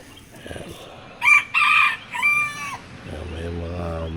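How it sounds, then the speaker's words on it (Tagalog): A rooster crows loudly nearby, a multi-part cock-a-doodle-doo, with low murmuring voices and soft background noise after it. "May mga manok pa dito"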